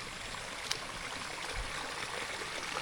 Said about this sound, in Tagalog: Tingnan nyo, ang lakas ng daloy ng tubig dito sa daan.